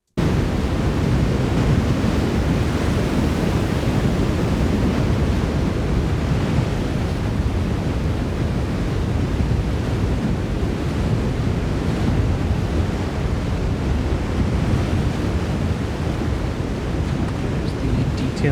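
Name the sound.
synthesized water ambience, ocean waves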